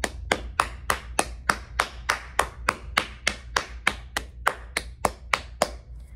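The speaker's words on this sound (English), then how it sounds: "round of applause" A single person clapping at a steady rhythm, about fifteen sharp close hand claps over a few seconds with no one else joining in.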